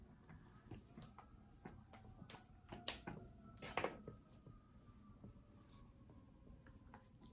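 Pen writing on a card, with faint, quick scratching strokes and small taps coming in irregular bursts in a quiet room.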